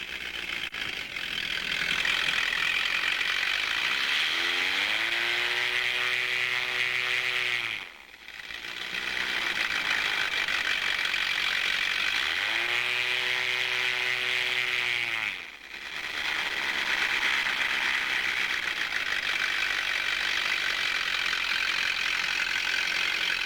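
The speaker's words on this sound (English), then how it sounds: "that engine's beginning to howl the way it's supposed to." An engine fitted with a Posa carburetor idles, then twice rises into a howling rev as the throttle comes up, each surge cutting off abruptly before it settles back into a steady running drone.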